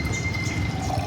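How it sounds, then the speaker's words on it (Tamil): Chana masala is poured out during a meal, a brief, quiet, wet liquid trickle with soft dripping and no talk. "அந்த சன்னா மசாலா ஊத்துறா"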